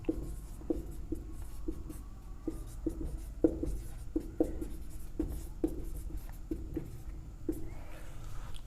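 Chalk or pen strokes tapping and scraping across a board in a steady run of short marks as an answer is written out during a Class 10 maths lesson on HCF, close and alone with no talk.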